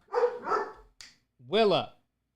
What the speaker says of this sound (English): That's a puppy barking.